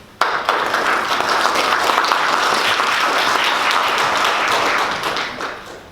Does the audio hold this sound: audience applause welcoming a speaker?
yes